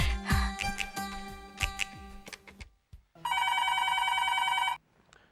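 A telephone bell rings in a steady electronic burst after a stretch of clattering, clinking sounds, then stops abruptly.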